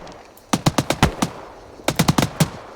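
Automatic rifle fire in the military shooter ArmA 3 during a convoy training mission, two loud close bursts of rapid cracking shots separated by a short pause, with no voices.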